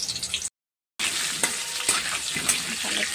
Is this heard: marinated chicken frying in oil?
yes